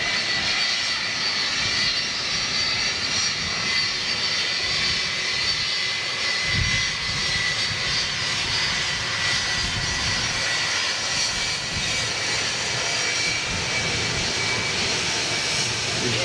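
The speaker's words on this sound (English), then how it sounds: "They are definitely Rolls-Royce RB211s on board that 757." A Boeing 757 fitted with Rolls-Royce RB211 engines roars steadily as a broad, continuous jet rumble with hissing upper tones, sustained and loud throughout with no talk.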